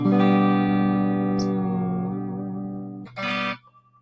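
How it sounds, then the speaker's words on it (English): Clean electric guitar through a Vox AC30 amp with reverb and tremolo on tap, a sustained ringing chord that slowly decays, then a short fresh strum that quickly fades out, no voices. "That's my clean sound. I'm running it through the AC30 right now."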